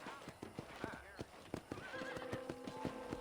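Horses at a ranch corral in the Red Dead Redemption video game, hooves clip-clopping in an uneven rhythm while several whinnies rise and fall, with voices talking over them.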